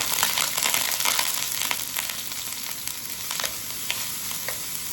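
Chopped onion sizzles steadily in hot oil in a pan for chicken fried rice, a continuous close crackling hiss with occasional stirring scrapes and no talking.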